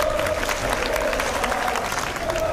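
A group breaks into dense, sustained applause during an Italian gameplay stream of Sekiro: Shadows Die Twice, with a steady clatter of clapping and a faint crowd murmur running beneath it.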